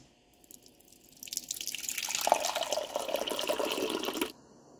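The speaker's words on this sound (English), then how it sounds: "the next thing on the list is drink a cup of water" Water pours into a cup from a tap for about three seconds, a steady splashing fill that starts and stops abruptly, close and fairly quiet in a quiet room. No drinking sound is audible.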